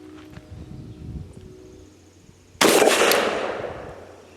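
An SDS Titan semi-automatic 12 gauge shotgun fires a single sharp, loud blast after a stretch of quiet handling noise, its report ringing and decaying over the final seconds.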